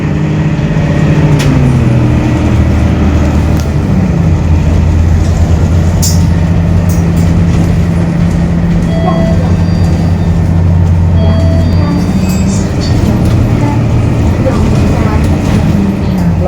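Continuous engine drone and road rumble inside a bus riding from Taipei Main Station up to Yangmingshan in Taiwan, steady and close throughout with faint background voices.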